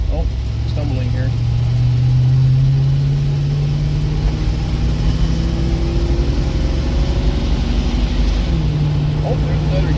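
A car engine runs and changes pitch through gear shifts, its steady tone stepping down and up, with an automatic transmission that may be slipping, close and continuous for ten seconds.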